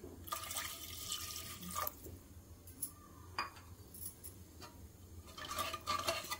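Water is poured into a pot of fresh pigeon pea amti, then a spoon clinks and scrapes against the pot in short bursts of stirring, close and fairly quiet.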